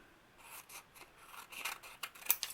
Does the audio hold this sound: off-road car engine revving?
no